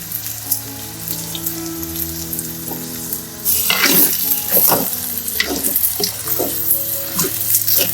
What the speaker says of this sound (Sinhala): දැන් මාළු මිරිස් ටික දාගන්නවා.